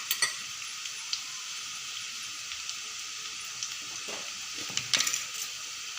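Onions cooking covered in a pan for Kathiyawadi dahi tikhari, a steady bright sizzle and crackle with scattered small pops, close and alone without talk.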